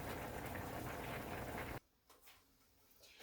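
Water at a rolling boil in a pot of spaghetti on a gas stove, a dense, steady bubbling hiss for nearly two seconds that then cuts off abruptly to near quiet with faint clinks.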